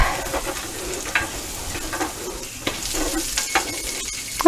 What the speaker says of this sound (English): Scraping stuff off the bottom so it's not burning while we're letting all that melt.